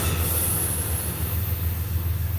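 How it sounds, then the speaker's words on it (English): An Amtrak passenger train rolls past nearby, giving a continuous loud rumble and rail roar with a high metallic hiss above it. There is no break and no voice. "This isn't even one of the freight trains. That's an Amtrak, you guys."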